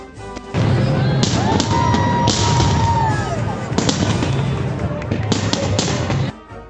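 Fourth of July fireworks in Boston pop and boom repeatedly over a crowd singing loudly, with whistling rockets streaking up between the bursts.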